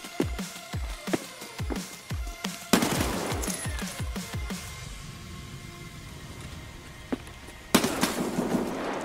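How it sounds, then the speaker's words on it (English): Rapid bursts of SKS rifle fire in a first-person shooter video game, a string of sharp cracks at an uneven pace, then a sustained rumbling stretch and a final loud shot, with no speech. "Why are you shooting, damn it?"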